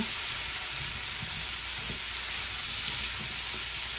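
Liquid aminos hit broccoli in a hot pan for hibachi at home, giving a steady, fairly quiet sizzle and hiss of steam with a few soft stirring knocks underneath.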